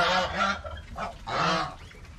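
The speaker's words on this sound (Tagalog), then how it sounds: "Ayan po yung gansang maingay." A goose honks loudly and repeatedly in harsh, nasal bursts, close by, with no talking.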